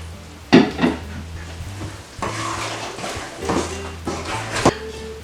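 A gluten-free potato croquette batter of flour and milk is stirred in a bowl, making scraping and sloshing strokes in uneven bursts with a few sharper knocks of the utensil against the bowl.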